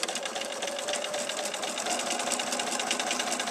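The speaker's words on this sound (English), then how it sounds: "I'm going to sew back down on the other side" A sewing machine stitches fabric while a quilt is being sewn, a steady, fast, even mechanical chatter held at a moderate level throughout with no talking.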